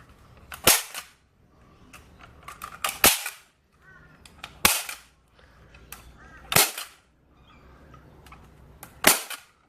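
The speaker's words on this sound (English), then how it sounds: "staple it down, so we'll get a nice, neat finish, and then just staple along the" A staple gun driving staples through carpet into the plywood floor of a tinny boat, five sharp, loud, snapping cracks spaced about two seconds apart, with quiet shuffling and handling sounds between them.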